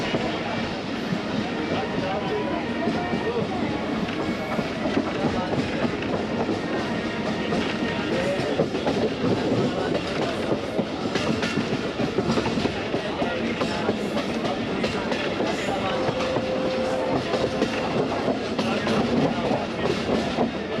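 Karakoram Express passenger train running on the Lahore–Khanewal mainline, a continuous loud rumble with steady clickety-clack of wheels on rails throughout, and voices talking over it.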